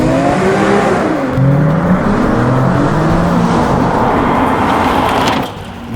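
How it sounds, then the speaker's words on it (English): Nissan 370Z fitted with an XFORCE sports exhaust revs hard, its deep growl climbing in pitch through repeated throttle blips, loud and close with no talking, then easing off at the end. "What could be more satisfying than hearing that electrifying growl every time you hit the accelerator?"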